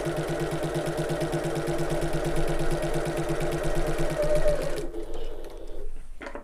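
A sewing machine stitches mountings onto a fabric wallet, running in a steady rapid mechanical rhythm for close to five seconds and then stopping, leaving near quiet.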